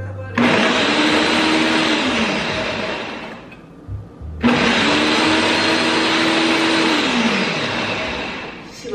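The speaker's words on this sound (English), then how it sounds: "we're just gonna blend it a little bit" A blender whirs loudly as it blends a spicy smoothie-like drink, running in two long bursts separated by a brief pause, its motor pitch dipping as the load shifts.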